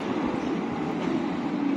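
Tram rolling past on a street in Bucharest, a steady broadband rumble of wheels on rails with continuous low-frequency noise, close by and alone with no talk.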